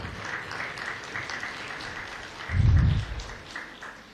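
An audience at a school prize-giving ceremony claps softly and at a distance, a low steady patter with one brief louder thump partway through.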